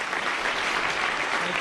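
A National Press Club audience gives David Simon, creator of The Wire, a round of applause: a steady, full wash of clapping from a room of people, with no voices over it.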